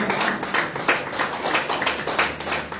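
A church congregation claps hands together in a steady, lively rhythm, fairly loud and continuous, with no talking over it.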